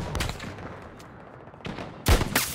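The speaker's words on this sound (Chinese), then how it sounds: "一发子弹擦头皮而过" A bullet cracks close past the player's head in the shooter game Battlefield 2042: a sudden loud, sharp snap near the end, after quieter scattered battle noise.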